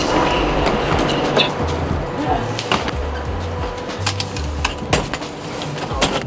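Last train of the day running toward Switzerland in 2021, heard from inside a first-class carriage: a steady rolling rumble with a continuous low drone and rhythmic clicks and clacks from the rails, plus occasional faint sounds from inside the carriage.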